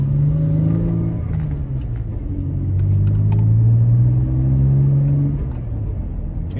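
A Toyota Tacoma on aggressive off-road tires rolls along pavement, its tire hum and engine rumble steady and close, swelling slightly as the truck speeds up, with no talking.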